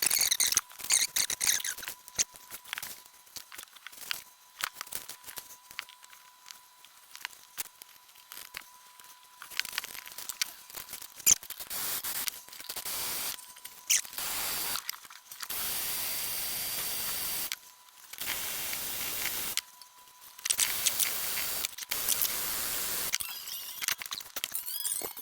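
Sped-up restringing of a Tokai LG 50Q 24-fret Korean electric guitar: quick bursts of crinkling, scraping and squeaky string handling, with a steady thin tone underneath and denser, louder clusters toward the end.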